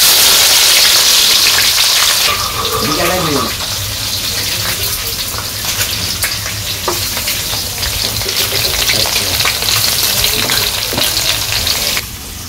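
Onion and cumin with spices sizzle loudly in hot oil in a village kitchen, a steady crackling fry with occasional stirring and scraping throughout, no talk.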